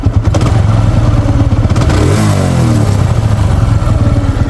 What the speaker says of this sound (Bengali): যেহেতু বাইকটি স্টার্ট করেছি একটু সাউন্ডটা দেখাই দিই